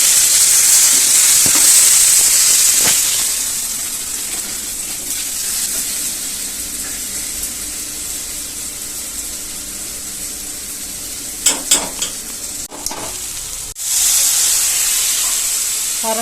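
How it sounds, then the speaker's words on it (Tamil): Fish curry simmers and sizzles in a pan as ground tamarind is poured in and stirred, a steady hiss with a few brief clinks and scrapes of a utensil partway through. "அரைச்சி வச்சிருக்க புளி எல்லாம் ஊற்றிட்டியா?"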